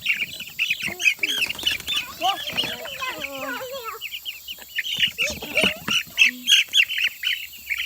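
Cornish cross meat chickens cluck and squawk continuously in a busy flock nearby in a chicken tractor, with chirpy calls layered throughout.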